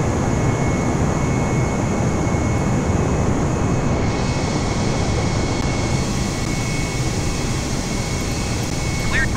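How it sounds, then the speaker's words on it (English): An airliner in the video game Microsoft Flight Simulator 2020 rolls for takeoff on a runway in Indonesia, giving a loud, steady jet engine roar that holds without letup from start to end. "Cleared for takeoff runway 7 left."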